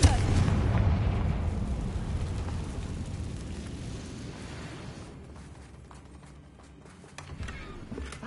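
In Hogwarts Legacy, a Confringo blasting spell goes off with a loud, booming explosion that rumbles and slowly fades over several seconds, rising a little again near the end.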